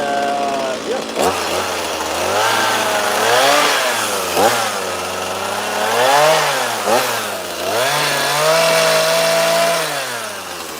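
Chainsaw switched to a carving bar while carving a wooden dragon, a loud continuous engine drone rising and falling in pitch as the revs change, close up and steady throughout.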